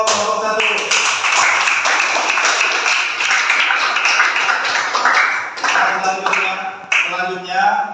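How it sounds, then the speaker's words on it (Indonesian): Classroom students clap for a presenting group, a busy patter of hands that runs for several seconds, with voices rising over it toward the end. "tepuk tangan untuk kelompok 1"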